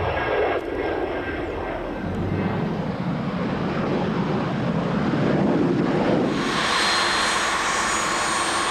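A private jet of American registration arrives at Sebring, Florida, its steady engine roar loud and close throughout, with wind buffeting the microphone and a brighter high whine rising near the end.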